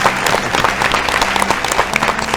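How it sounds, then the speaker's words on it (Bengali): A studio audience at an agricultural quiz show claps in a dense, continuous burst of many hands, close and fairly loud throughout. "হাততালি চলুন।"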